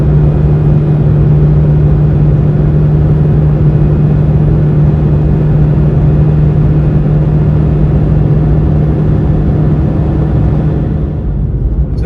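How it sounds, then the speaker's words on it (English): A 2004 Vauxhall Corsa C engine runs with a misfire from a damp coil pack, giving a loud, close, steady low rumble and hum that holds without a break for the whole stretch, with no talking. "Got a nice bit of misfiring from where the coil pack's got damp or wet"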